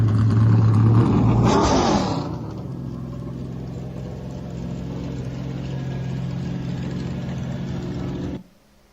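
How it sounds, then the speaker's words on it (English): A race car engine at Darlington Raceway screams at high revs, then drops to a steady lower drone that holds before cutting off abruptly. "you can hear all those real high revs"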